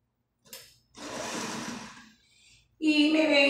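A sewing machine stitches the seam of an off-shoulder blouse with an elasticated neckline, running in two short whirring bursts separated by pauses, close and clear, followed by a voice speaking at the end.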